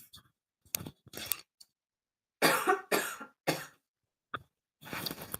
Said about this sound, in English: I just moved my mic away for a second because I had to do a little bit of a cough